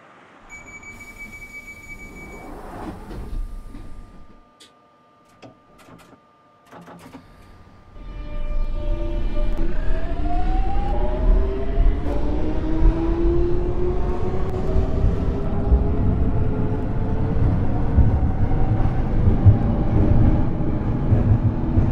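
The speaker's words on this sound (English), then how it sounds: "This train terminates at North Greenwich." A London Underground Jubilee Line train at North Greenwich: quiet platform sounds, then the train's motors rise in a long whining pitch sweep and settle into a loud, steady rumble.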